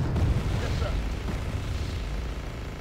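A heavy, rumbling blast from a tank cannon in the game Wargame: Red Dragon, its low boom rolling out across the whole moment with a dense, noisy tail.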